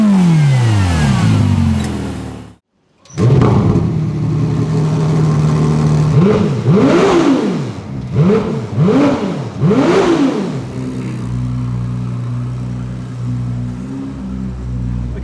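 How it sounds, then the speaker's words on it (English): A Ferrari 296 GTB V6 revs hard while driving in sport mode, raspy and growly, with a brief cut near the start, then a series of rising and falling throttle blips before settling into a steady drone. "This car kind of sounds raspy and growly instantly from the get-go, even just driving in a normal sport mode."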